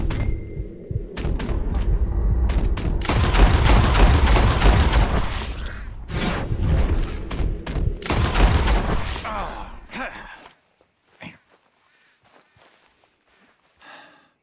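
Gunfire from a shootout in Red Dead Redemption 2, with sharp shots and booms mixed into dense game action for about ten seconds, then a few scattered faint hits trailing off into near silence.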